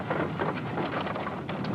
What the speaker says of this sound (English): The rain keeps up for days